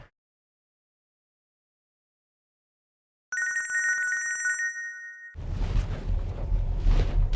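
After a stretch of silence, a steady electronic telephone ring tone sounds for a couple of seconds, then gives way to a loud, broadband noisy passage.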